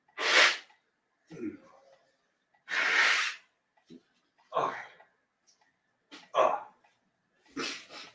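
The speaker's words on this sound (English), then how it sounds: "I got to blow my nose" Several short bursts of nose blowing and sniffing, close by, separated by brief pauses, with a loud honking blow near the start and middle.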